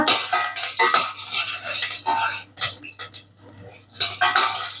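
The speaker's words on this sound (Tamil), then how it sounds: "இதை கொஞ்சமா கலக்கி விடுவோம்" Ingredients with curry leaves being stirred in a cooking pot for a pineapple curry, a burst of quick metallic spoon clanks and scrapes against the pot, close and fairly loud, with no talking.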